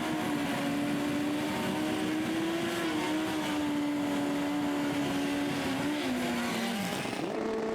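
Super street bike drag racing motorcycles at the FIM Euro Finals scream loudly and continuously, a sustained engine roar with a steady high pitch that wavers slightly and dips near the end as a run finishes.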